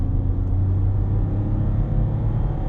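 A BMW 1.5-litre three-cylinder diesel accelerating on kickdown, a loud, steady low engine drone with a gritty rumble heard from inside the car, holding strong without pause.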